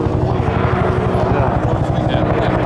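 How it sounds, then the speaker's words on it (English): A helicopter passes over an outdoor machine gun shoot range, its steady rotor thump loud and continuous throughout, with people talking underneath. "Now we got helicopters coming over."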